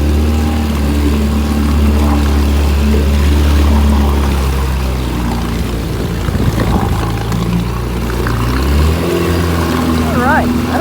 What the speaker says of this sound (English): 10 horsepower running like a dream